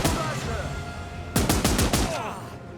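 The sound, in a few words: machine gun fire in a video game (Last Train Home)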